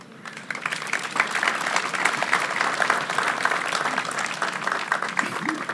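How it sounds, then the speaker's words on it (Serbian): A crowd at the unveiling of a Nikola Tesla monument claps in sustained, dense applause that holds evenly for several seconds, fairly close and loud, without speech over it. "ja molim za jedan aplauz"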